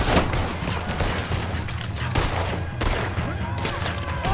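Gunfire in the western game Red Dead Redemption 2 during a shootout, dense overlapping shots and crackling bursts, loud and continuous throughout.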